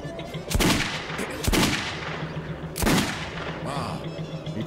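Three heavy, booming rifle shots from a sniper in the Metro video game, spaced a second or more apart, each with a reverberant tail over a steady background hum.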